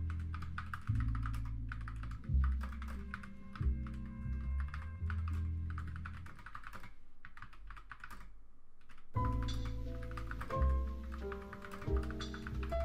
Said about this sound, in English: I probably should have done a sound test before I did before I switched to the silver switches